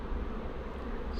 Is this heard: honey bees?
yes